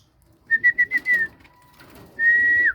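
Several short whistled notes in quick succession, a pause, then one longer sustained whistle, close and clear over a faint background. The notes come from a person whistling rather than from the pigeons themselves.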